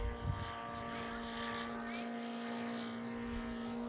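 A large radio-controlled airplane drones steadily overhead as it climbs for altitude, a constant engine and propeller tone holding throughout at moderate distance with no talk.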